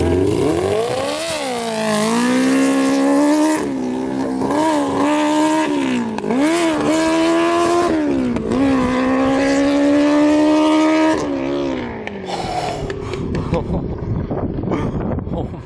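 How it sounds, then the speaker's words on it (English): A 650cc cart engine accelerates hard after a clutch dump, loud and close, its pitch climbing through each gear with short dips at the shifts before easing off near the end, with wind noise buffeting the microphone. "Clutch dump right here."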